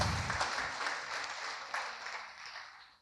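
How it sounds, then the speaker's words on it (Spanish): A church congregation applauds during a sermon, a fairly faint wash of clapping that fades away over about three seconds. "¿Qué tal si le da un fuerte aplauso al Señor?"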